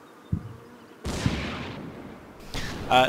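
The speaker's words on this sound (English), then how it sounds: "when this tank will fire next, you'll see the shell, and then you'll hear it" Heavy tank cannon blasts from a battle in the game Combat Mission: Battle for Normandy, a few booming shots spaced apart, each with a rumbling tail.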